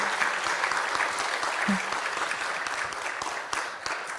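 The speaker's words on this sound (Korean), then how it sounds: "여러분 박수 부탁드립니다" Steady applause from a church congregation at a 70th anniversary thanksgiving service, many hands clapping densely and evenly throughout, fairly close, with no pauses.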